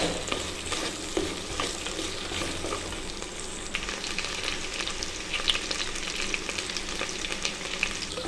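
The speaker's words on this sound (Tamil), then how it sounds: "வெண்டைக்காவை சேர்த்து பொறுமையாக நல்லா வதக்கிக்குங்க." Cut okra (lady finger) sautéing in a pan sizzles steadily up close, with repeated scraping and tossing of a spoon through the vegetables and no talk.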